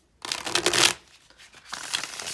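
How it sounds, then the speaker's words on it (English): A deck of tarot cards printed on 300 GSM cardstock being shuffled by hand, two short close bursts of riffling and flicking separated by a brief pause, alone with no talking. "We'll give them a shuffle now."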